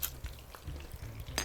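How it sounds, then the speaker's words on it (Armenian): Slices of Aleppo-style mortadella frying in a pan, a soft crackling sizzle with a few light scrapes and taps of a utensil, fairly quiet and close, with no talking. "Մի քանի րոպե էլ թողում ենք այս մարտադելաները այս կողմից եփի"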